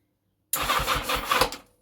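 A 1980 Yamaha XJ650 motorcycle engine cranks and catches abruptly after silence, sputtering briefly in a rough burst before dying away.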